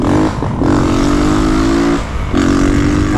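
Honda Titan 160 motorcycle, 2022 model, fitted with a loud aftermarket exhaust, revving hard and close in sustained bursts with brief dips between throttle blips.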